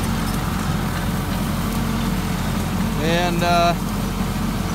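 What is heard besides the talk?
tractor engine running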